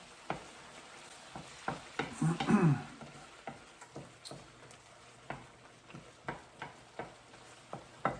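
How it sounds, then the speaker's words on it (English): Butter melting and being stirred into a creamy Cajun pan sauce for chicken sausage linguine: a spoon ticks and scrapes rhythmically against the pan, with a brief burst of sizzling partway through. "So let all that melt down, stir it up, the butter will melt down, get this very creamy."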